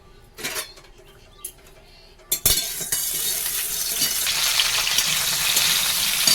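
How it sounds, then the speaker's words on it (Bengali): Okra (ladies' finger) frying in a pan, a few clinks and taps of utensil on metal before a sudden loud sizzle breaks out and continues as a steady, close hiss of frying. "প্রথমে ঢ্যাঁড়স ভাজাটা করব"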